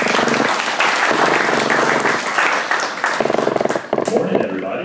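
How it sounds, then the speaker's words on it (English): A morning business-meetup audience gives a loud, close round of applause to welcome a speaker, with dense clapping throughout that turns more scattered near the end. "Please, a round of applause."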